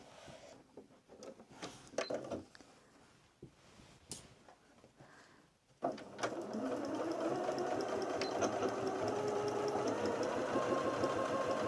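A sewing machine stitching fabric for a makeup bag, starting after some quiet handling clicks and then running as a steady, close, continuous whir.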